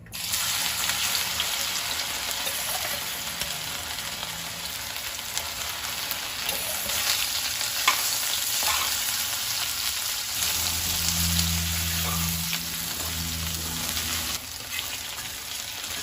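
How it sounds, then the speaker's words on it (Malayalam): Okra frying in hot mustard oil over a high flame gives a continuous dense sizzle and crackle, close and even. A faint low hum sits underneath and swells in the latter part. No voices. "നാല് മിനിറ്റോളം ഞാനിത് ഫ്രൈ ചെയ്യാൻ ഇട്ടിട്ടുണ്ടായിരുന്നു ഹൈ ഫ്ലെയിമിലിട്ടാണ് ഞാൻ ഫ്രൈ ചെയ്തെടുത്തത്"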